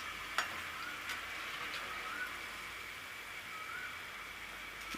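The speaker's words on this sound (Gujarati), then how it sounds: "અને આ રીતે બધાય આપણે આને તળી લેવાના છે એકદમ સરસ." Veggie burger patties fry in oil, giving a soft, even sizzling hiss that runs steadily throughout, with a few faint ticks and pops over the top.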